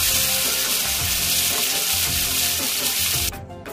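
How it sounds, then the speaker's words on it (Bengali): Shrimp fry in a hot pan, giving a steady loud sizzle throughout with faint stirring scrapes, and the hiss drops off sharply near the end. "আমি চিংড়িটা অল্প সময় ভেজে নেব।"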